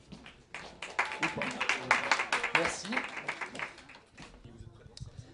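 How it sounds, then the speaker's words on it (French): An evening talk audience applauds three invited guests with steady, dense clapping that swells and then thins out, while a voice speaks briefly over it. "qu'on peut applaudir."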